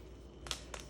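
Vinyl sticker tearing its paper backing during balloon and cake topper assembly, two quick faint crackling rips close by in a quiet room.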